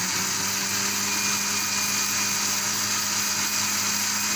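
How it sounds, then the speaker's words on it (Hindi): An electric mixer grinder blends a coriander and mint chutney with salt, a loud, steady motor whine running without pause from start to finish. "और अब इसको मैं मिक्स कर रही हूँ।"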